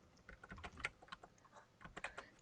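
Fast, irregular typing on a computer keyboard, close and fairly quiet, with bursts of key clicks and short pauses, no talk.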